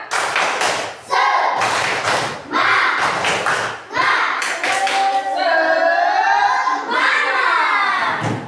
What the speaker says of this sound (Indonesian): Ya, tepuk semangat terus lagi. Tepuk semangat.